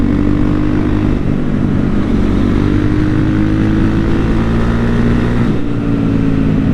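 A 2007 Honda CRF450X converted to a street-legal supermoto runs steadily nearby, its single-cylinder engine holding a loud, continuous drone with a brief dip in pitch partway through.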